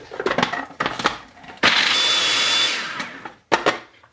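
Hazelnut brownie batter mixed with an electric mixer or blender: intermittent bursts of knocking and whirring, then a steady loud motor whine for about a second, followed by a short final burst.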